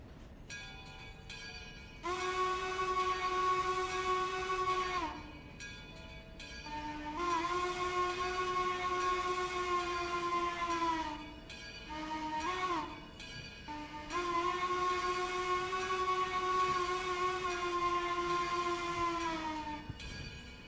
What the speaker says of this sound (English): Little short 6-car log train coming down.